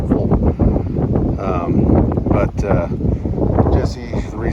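Strong wind buffets the microphone outdoors on a cold day while fly fishing for sunfish and perch in Idaho, a continuous low rumble with gusts throughout, mixed with faint voices.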